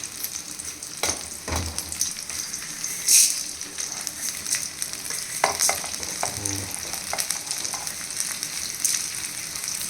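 Dried red chillies and coriander fry in a pan with a steady crackling sizzle, punctuated by a few sharp pops and scraping stirs, close and continuous with no talking.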